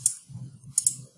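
Computer mouse clicks, three crisp, close clicks, one at the start and a quick pair near the end, over faint low background rumble.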